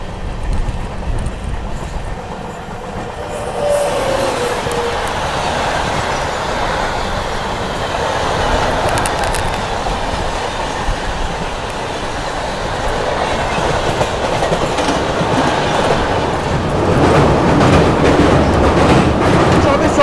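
The New Delhi–Dibrugarh Rajdhani Express passing close by, a loud, steady rumble of rolling wagons and clattering wheels that builds and stays heavy for twenty seconds, with a voice heard briefly over it.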